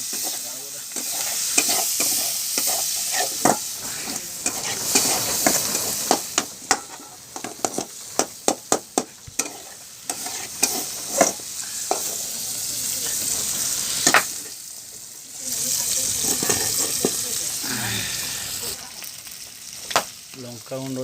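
Fish coated with turmeric frying in a pan, a steady loud sizzle broken by bursts of scraping and stirring, with a quieter spell midway and no talking.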